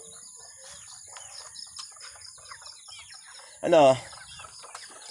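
A single loud, drawn-out chicken call rises near the end, with faint bird chirps and quiet background sounds around it.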